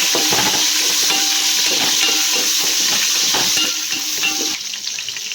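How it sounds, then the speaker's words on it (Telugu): Cashews, green chillies and a bay leaf sizzle loudly in a pan of hot oil as they are stirred, with a dense hiss and frequent close scraping of the spoon, easing slightly toward the end. "కాజు వేగినాక పచ్చిమిర్చి, మిర్చితో పాటు బగారా ఆకు వేసుకోవాలి. కలుపుకోవాలి."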